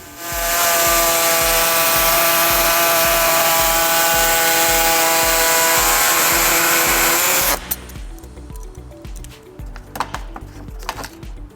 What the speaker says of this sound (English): we're going to be trimming the air deflector, which we already marked from the rear of the bumper 2 inches.